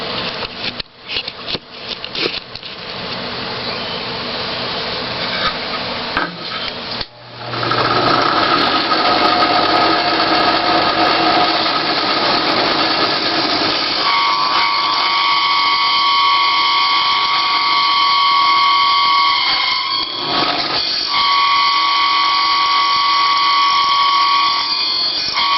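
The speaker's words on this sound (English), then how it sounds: "turn the board over and start drilling from the other side using the center hole of the hole saw as a guide" Power drill spinning a hole saw through a wooden board from the back side to avoid tear-out, a loud steady whining drone that holds for many seconds after a few brief starts, with no talking.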